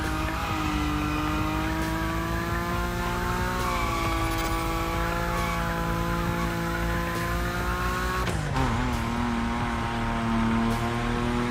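A Nismo car slides at high speed in The Crew Motorfest, its engine holding a steady high note with tyre squeal over it, then dropping in pitch near the end before climbing back.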